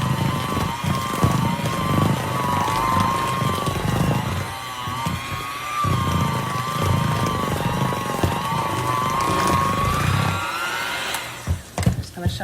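Electric mixer beating frosting for a strawberry icebox cake, a loud, steady, close whirring drone with a wavering motor tone that runs continuously before cutting out near the end.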